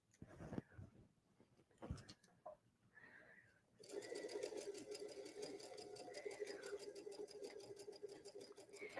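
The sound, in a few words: sewing machine stitching a blind hem with blind hem foot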